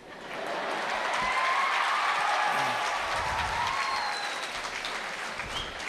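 Audience at a motivational speech in a college hall breaks into applause, a dense wash of clapping that swells quickly, holds steady and fades slightly toward the end, with no talking over it.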